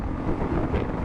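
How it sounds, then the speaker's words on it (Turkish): Heavy wind buffets the microphone on a moving motorcycle in a loud, rumbling, uneven roar with no other sounds. "Dehşet rüzgar var."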